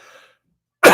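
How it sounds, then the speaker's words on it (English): A single loud, sharp cough bursts out abruptly after a moment of near silence, preceded by a faint murmur. "Excuse my coughing."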